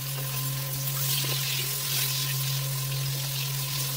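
Potato and carrot pieces cook in a pan of oil tempered with whole spices, making a steady, even sizzle with faint stirring and a constant low hum behind it, no voices.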